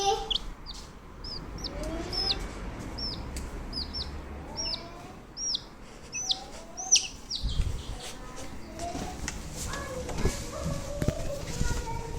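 Many small chicks peep continuously in high, chirpy calls, close and busy, with people talking and moving nearby.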